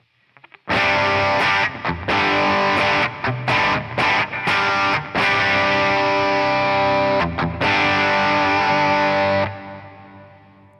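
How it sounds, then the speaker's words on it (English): An electric guitar played through a hall reverb pedal with a little drive, loud sustained distorted chords with brief choppy breaks, ringing out into a washy reverb tail that fades over the last second. "This is my hall reverb. It's good with a little bit of drive."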